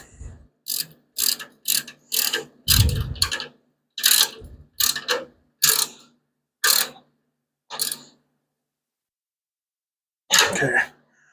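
Ratchet tightening a bolt on a 6.4 Hemi engine test stand, a series of short clicking bursts in an irregular rhythm with pauses, close and fairly loud, one last burst after a long gap.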